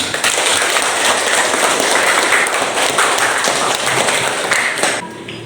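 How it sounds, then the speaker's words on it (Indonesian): A class of students claps in a classroom lesson, loud close rapid overlapping hand claps that continue steadily for several seconds and then stop abruptly. "Tepuk tangan, nak. Silakan tepuk tangan."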